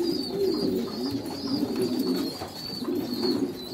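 A Kashmiri pigeon cooing repeatedly while held in the hand at a bird market, soft throaty rolling coos close by over a faint background hiss, with no talking.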